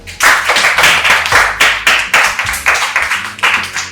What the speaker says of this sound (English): You can give yourself a round of applause.